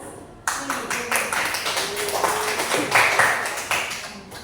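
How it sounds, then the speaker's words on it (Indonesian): Students applaud in a classroom, a dense patter of many clapping hands starting abruptly and continuing steadily at close range, with voices murmuring underneath. "Oke, tepuk tangan lagi untuk"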